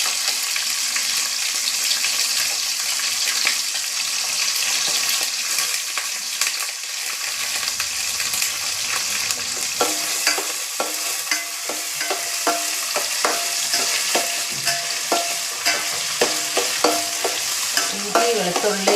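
Ginger, garlic and bird's eye chillies fry in a pan for a homemade chilli pickle, giving a steady, close sizzle with repeated stirring scrapes and clatters that grow busier toward the end.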